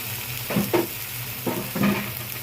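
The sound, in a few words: stir-frying boiled vegetables with garlic in a pan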